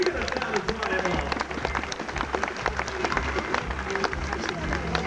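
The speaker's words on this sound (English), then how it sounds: "Have a big round of applause for Michael." An audience applauds a volunteer named Michael at a SeaWorld show in Queensland. The clapping and crowd noise is steady and moderately loud, and a presenter talks over it.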